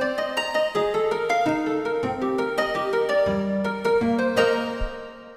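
A bright Roland D-50 synthesizer patch plays a sequence of plucked, harp-like notes with shimmering harmonics, moderately loud and alone.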